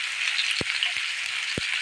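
Sewali flowers and papaya sizzling in hot mustard seed oil in a pan, a steady bright frying hiss throughout with a few soft low knocks, close and moderately loud.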